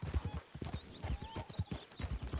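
Horse hooves clip-clopping on a trail in the Wild West video game RedM, a steady walking rhythm of soft thuds, close and fairly quiet, with faint game ambience.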